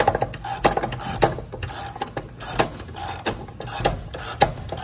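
Steel bungee spring on a Viking aircraft nose wheel being tightened, giving a busy run of close metallic ratcheting clicks and clanks in repeated bursts throughout, with no talking.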